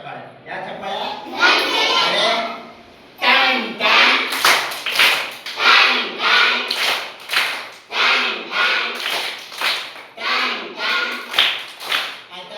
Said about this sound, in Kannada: ಗಂಟೆ ಚಪ್ಪಾಳೆ.